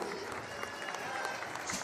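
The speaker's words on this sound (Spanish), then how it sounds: "Fuerte el aplauso para que se animen" Audience at an outdoor huapango huasteco dance competition clapping steadily but fairly faintly, a brief burst of scattered applause heard from a distance.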